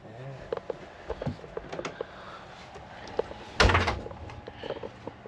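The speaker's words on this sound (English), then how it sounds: "Here, shut the door." The door of an Airstream trailer is pulled shut with a single loud, close thunk, preceded by scattered faint clicks and shuffling.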